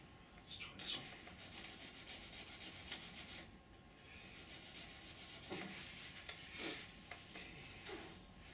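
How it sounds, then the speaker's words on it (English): A wooden toothpick being sharpened at a mould-making bench: close, dry rubbing and rasping strokes that come in quick repeated bursts with short pauses between them. "I'll just sharpen my toothpick."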